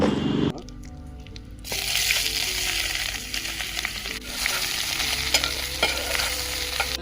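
Mustard seeds, curry leaves and fennel seeds dropped into hot oil burst into a loud, steady sizzle and crackle after a brief clatter, with stirring and occasional pops throughout.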